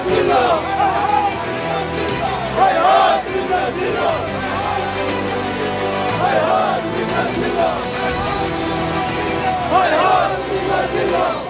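A large crowd in Srinagar celebrates in support of Iranian forces, shouting slogans in loud rhythmic waves with many voices chanting together over a constant roar of outdoor hubbub.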